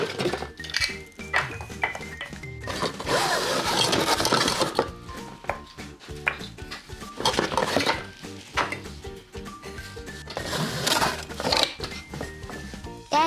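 A battery-powered toy drill from a take-apart crane construction set whirs in steady mechanical bursts, mixed with clicking and clattering of plastic parts.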